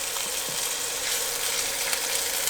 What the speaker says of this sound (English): Once it's nice and piping, get your protein in. You should hear that sizzle.